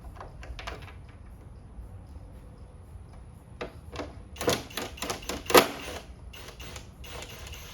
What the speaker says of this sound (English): Go ahead and uninstall these 4 bolts.